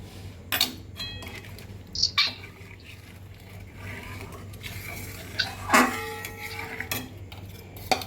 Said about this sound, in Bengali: অল্প অল্প করে দিচ্ছি আর মিক্সড করছি